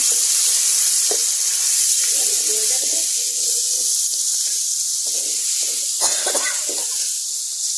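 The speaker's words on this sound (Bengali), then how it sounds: "এখন গোটা শুকনো মরিচের ফোড়ন এবং গরম মশলা দিয়ে জিরে দিয়ে ফোড়ন দিয়ে দেবো।" Whole dried chillies, garam masala and cumin sizzle in hot oil, a loud, constant hiss that runs throughout, with faint clinks and a few soft knocks of a pan or spoon.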